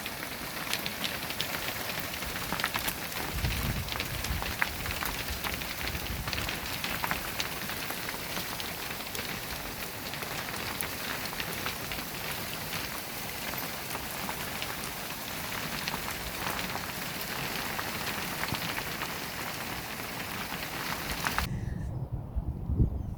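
Hailstones fall onto a polytunnel and garden in a dense, continuous pattering hiss, loud and steady for a long stretch before stopping abruptly.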